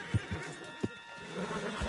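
Horse neighing in Red Dead Redemption 2, a few short whinnies and snorts, fairly faint, with light hoof thuds underneath and no speech.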